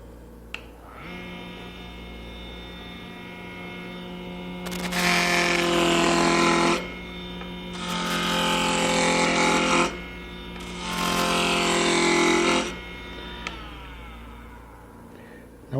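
A wood lathe roughs out a furniture part, a steady hum and whir with three louder bursts of cutting as the chisel bites the spinning wood, then eases back between passes.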